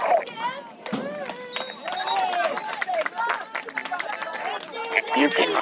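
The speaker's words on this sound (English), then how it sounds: "You can hear the Megas traveled all the way up from New York cheering the team on." Megas Alexandros supporters at an amateur over-30 soccer match raise overlapping shouts and excited voices, close and lively. Crowd chatter and calls run throughout, with a little clapping mixed in.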